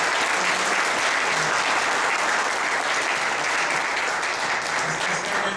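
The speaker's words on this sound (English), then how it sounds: "let's give them just a round of applause" An audience at a school parent night for the Wildcats claps in loud, dense, continuous applause that fills the room without a pause.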